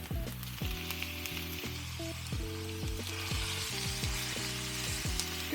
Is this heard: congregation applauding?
no